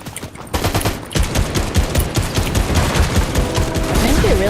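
Sniper rifle fire in a video game, loud dense volleys of shots and impacts layered over constant battle noise, with a rising tonal sweep near the end.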